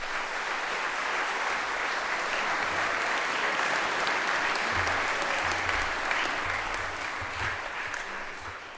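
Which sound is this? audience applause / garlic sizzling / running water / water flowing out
audience applause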